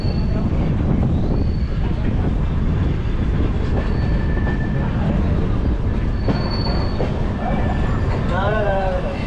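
A Sampark Kranti Express runs along the rails near Dum Dum Junction with steady rumbling wheel noise, clicking joints and brief high wheel squeals, with voices talking faintly beneath.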